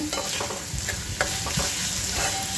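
Chopped onions sizzle steadily in a hot pan while being sautéed toward golden brown, a dense continuous frying hiss broken by a few soft stirring scrapes, close and loud with no talking.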